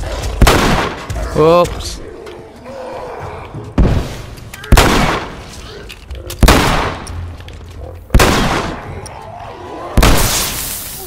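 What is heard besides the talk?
hunting rifle gunfire in The Last of Us video game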